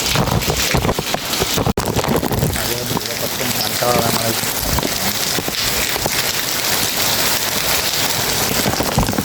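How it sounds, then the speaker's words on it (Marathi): Continuous rain falls steadily outdoors during a flood-swollen river scene, a dense, even hiss with gusts of wind buffeting the microphone and voices talking intermittently over it. "कंटिन्यू पाऊस पडतोय"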